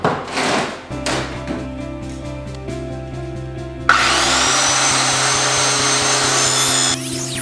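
Inexpensive power saw ripping through a sheet of plywood, a steady loud whine of blade on wood that starts and stops in bursts, then settles into one long sustained cut; close and alone, with no talking.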